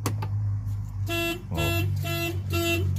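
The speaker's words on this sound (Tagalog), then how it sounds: "Once na in-unlock mo to from inside, mag-a-alarm na siya." A car's aftermarket alarm triggers after a door is unlocked from inside, sounding repeated pulsing electronic tones in regular bursts about half a second apart over a steady low engine hum, close and loud.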